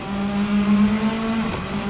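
EXN X50 race car engine on a hot lap in second gear under light throttle, a loud steady close drone with sustained harmonic tone and a brief dip near the end.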